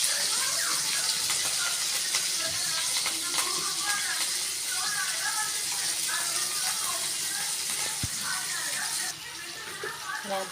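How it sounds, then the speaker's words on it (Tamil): Onions, green chillies and coriander leaves frying in oil in a pan, a continuous bright sizzle with small crackles and spatula scrapes, while someone talks over it; the sizzle drops slightly near the end. "வெங்காயம் லைட்டாக செவக்கிற வரைக்கும் வசக்கணும்."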